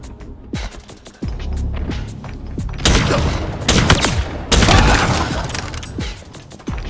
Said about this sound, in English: It took me 3 shots to kill an AFK player with the Heatwave that close.